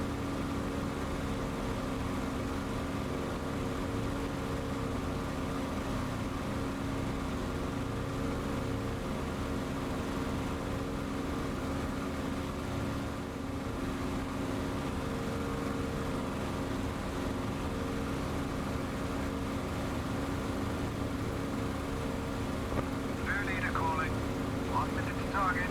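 Droning piston engines of WWII bombers flying in formation in a flight game, a steady, continuous low hum with layered tonal harmonics holding evenly throughout, with a faint higher sound near the end.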